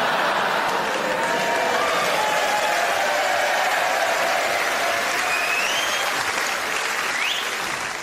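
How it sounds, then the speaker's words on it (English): A theatre audience at a live comedy stage show applauds loudly and continuously, with a few whistles and shouts rising above the steady clapping. "A round of applause"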